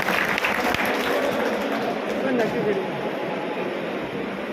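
A crowd at a Tiranga yatra honouring ex-servicemen applauds in welcome of the local MLA, producing a dense, steady roar of clapping that holds level from start to finish, with some voices mixed in.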